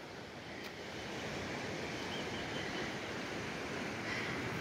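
The Rio Salgado flows at Sítio Urubu toward the Castanhão reservoir, its water a steady, dense rushing wash that stays constant and close throughout, with no voices.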